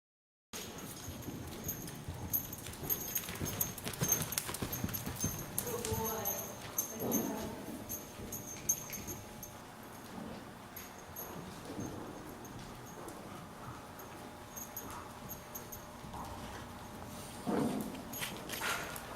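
Horse cantering with faint, rhythmic hoofbeats in an outdoor setting, mixed with wind and rustling, moderately distant and under occasional background noise.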